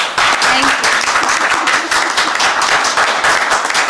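Dense, loud audience applause at Shreya Ghoshal's London press conference for her UK and Europe tour, a continuous wash of many hands clapping at close range.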